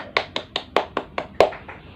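A small classroom group claps for a team after their micro-teaching turn: about seven crisp, separate hand claps at a steady, fairly quick pace, close and dry, with no voices over them.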